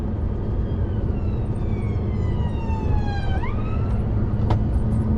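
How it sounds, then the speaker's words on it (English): An ambulance siren wails behind steady road rumble, its pitch sweeping down then rising again as it draws nearer, loud over continuous traffic noise. "I've got an ambulance behind"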